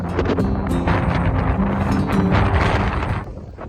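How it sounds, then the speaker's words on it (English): Cold wind buffets the microphone on a rugged coastal headland on the South West Coast Path near Porthcurno, a loud continuous roaring rush that barely lets up before easing slightly at the end. "As I've come up onto the headland, you can feel how cold the wind is."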